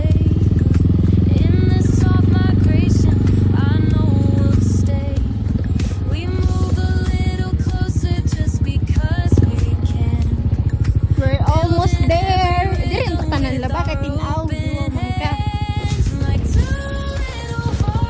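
A motorcycle ride on the way to a cold spring in Matalom, Leyte: a steady close engine drone with shifting pitch, overlaid by wind and clatter, and a voice briefly heard.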